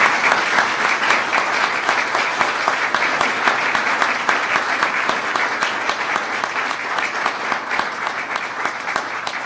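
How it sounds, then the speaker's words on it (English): An audience at a swearing-in ceremony for a U.S. ambassador to the Organization of American States gives the new ambassador's wife and children a round of applause, loud and sustained, with steady clapping all the way through. "So join me in welcoming our new ambassador's wife, Carmen, and Carlos, Isabella, Juan Pablo, and Felipe. Give them a round of applause."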